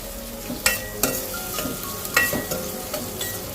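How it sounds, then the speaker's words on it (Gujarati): Onions frying in a pan for a spiced corn and paneer curry, with a steady close sizzle and several sharp stirring scrapes spaced through the clip, no voices. "હમણાં આપણે કાંદાને શેકાવા દઈશું."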